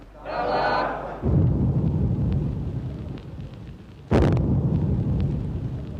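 Two heavy booming blasts of ceremonial cannon fire at a Malayan independence ceremony, the second sharp and sudden, each followed by a long rumbling roar of crowd noise and echo.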